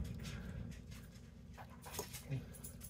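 A dog in a kitchen where short rib tacos are cooking, panting steadily and letting out soft whimpers, close by, over a constant low background hum with faint bumps.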